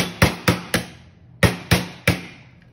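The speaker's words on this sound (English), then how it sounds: "And I don't have a real hammer either, so I'm just gonna use these wire strippers." Wire strippers used as a makeshift hammer tap an Allen key to drive a pin out of a Hi-Capa pistol frame, six sharp metallic knocks in two groups of three, close and crisp with a short ring.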